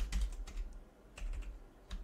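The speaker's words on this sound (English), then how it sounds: "So let's type" Fingers type on a computer keyboard in two short bursts of close, crisp key clicks separated by a brief pause, with no talk over them.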